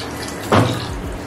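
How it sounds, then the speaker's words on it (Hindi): Water poured into rice in a pot for Bengali murg pulao, a brief close splash-and-gurgle of about half a second over steady kitchen background, with no talking. "इसमें डालेंगे हम पानी"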